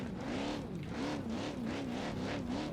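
The CB UFO off-road car in BeamNG's King of the Hammers race map drones steadily with a wavering engine tone that rises and falls, continuous and close, with no voices over it.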